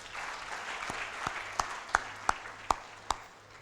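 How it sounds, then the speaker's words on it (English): Scattered audience clapping at a keynote conference on Indo-Pacific peace leadership, a thin diffuse patter with several sharper individual claps standing out, fairly faint and heard alone without talk. "Please give all of them a round of applause."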